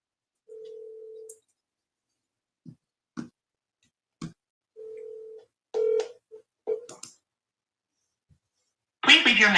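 Phone call being placed: steady dial-tone bursts and short tone beeps, then a brief outgoing ringback before a voicemail greeting begins at the end, fairly clear with no talk over it.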